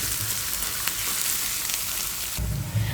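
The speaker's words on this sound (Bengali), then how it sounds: "আমি একটু ব্রাউন কালার করে ভেজে নেব" Pointed gourd (potol) frying in a pan until light brown, a steady close sizzle with faint crackles and a louder stirring scrape near the end, no voices.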